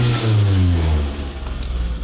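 Toyota Altezza RS200 Z-Edition 4-cylinder engine revved sharply close by, rising then falling back toward a fluttering idle, with no talk.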